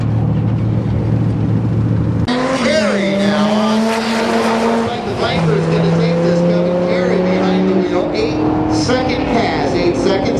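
Dodge Viper on a drag racing run: a loud engine roar bursts in after a quiet idle, with rising and falling gear-change pitch sweeps and a sustained high-revving rasp, close and powerful, with crowd or announcer noise underneath.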